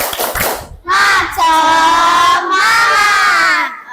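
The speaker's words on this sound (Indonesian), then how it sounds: "Oke, tepuk semangat." Schoolchildren in a classroom chant and clap a rhythmic spirit clap together, loud and close, with bursts of sung group voices and hand claps in a patterned sequence.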